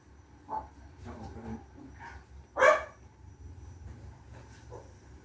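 A single sharp dog bark rings out mid-clip, with a few softer yips around it over a low background rumble.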